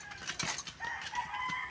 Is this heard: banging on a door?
no